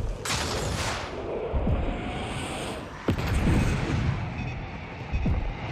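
Bombs exploding in Call of Duty: Black Ops 6 during an air strike, several loud booming blasts with rumbling roar between them, a sharp burst standing out midway and another near the end.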